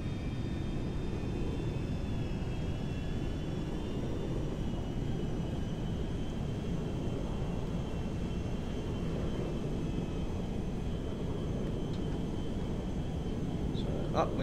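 A propeller airplane in the video game Transport Tycoon drones steadily as it climbs, a constant low engine rumble lasting throughout with a faint high tone above it.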